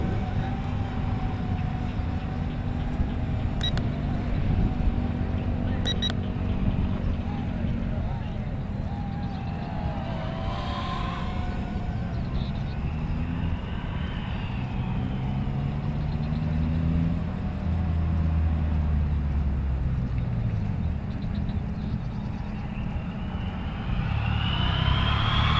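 A KY908 drone hovers and flies nearby, giving off a continuous whine whose pitch rises and falls as it moves, while a person talks throughout.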